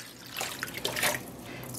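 Water is poured into a dye-bath pot for super bulky single-ply yarn, a faint, close trickling and splashing that swells briefly in the middle and then settles into a soft pour.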